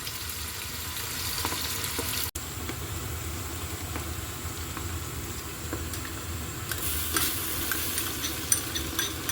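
Onions frying in a pan for a Saudi beef kabsa, a steady close sizzle with occasional stirring scrapes and one sharp click, continuous and fairly quiet with no talking.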